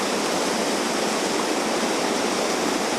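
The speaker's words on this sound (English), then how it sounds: "There's actually water in it this time," Water rushes steadily along a muddy forest creek on Vancouver Island, a loud, close, unbroken hiss of flow with no pauses and no voices.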